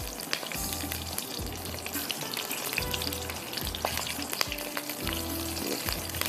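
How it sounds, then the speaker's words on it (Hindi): Green chillies fry in hot oil for a masala spaghetti, a dense continuous sizzle and crackle with rhythmic stirring thumps, close and steady. "हल्का सा इसको फ्राई करेंगे ताकि थोड़ा सा कलर इसका चेंज"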